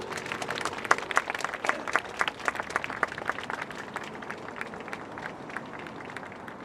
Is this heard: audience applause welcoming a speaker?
yes